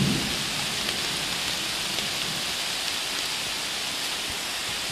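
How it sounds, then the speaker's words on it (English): Steady rain and storm pouring down outdoors on a Finger Lakes Trail walk in summer: a dense, even hiss of rainfall with no pauses and no voices. "Rainy, stormy."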